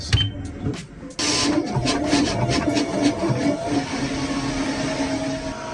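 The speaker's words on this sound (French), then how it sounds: "Cut Config, nous allons réaliser un test cut" A Roland TrueVis VG2 printer-cutter runs a test cut, a steady mechanical whir with a faint hum starting after a short quieter moment and continuing evenly to the end, with light ticking over it.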